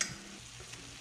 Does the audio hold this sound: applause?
no